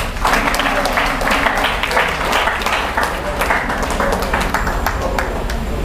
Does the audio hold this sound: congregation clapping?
yes